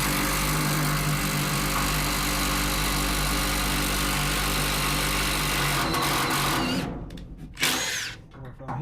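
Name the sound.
power tool driving expensive screws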